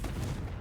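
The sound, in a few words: Confringo spell blast in the Hogwarts Legacy video game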